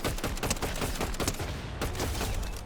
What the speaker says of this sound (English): they were just standing around there shooting the SMG at the roly-poly